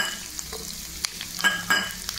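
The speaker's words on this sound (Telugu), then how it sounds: "ఇప్పుడు ఈ ఉల్లిగడ్డ ముక్కలు ఇందులో వేసుకోవాలండి" Chopped onions hit hot oil in a pan as dried fish tomato curry is started, giving a close sizzle with a few quick spatula taps and stirring scrapes, and no voices.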